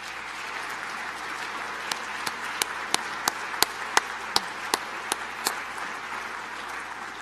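A university convocation audience gives a fairly faint, steady round of applause, with a series of sharper, louder individual claps standing out near the middle.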